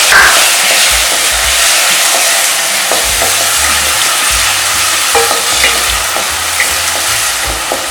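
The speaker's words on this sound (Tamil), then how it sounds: "தக்காளி கொஞ்ச நேரம் நல்லா வதங்கட்டும்." Tomatoes sautéing in a pan for a spicy garlic kuzhambu, a loud, steady sizzle with stirring scrapes throughout, no voices.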